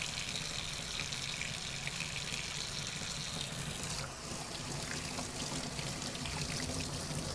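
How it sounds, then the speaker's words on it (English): Tap water pours steadily and close by as hands are washed, a continuous splashing trickle lasting the whole stretch, in a home mechanic's space after a session on an Audi A4. "Washing my hands again."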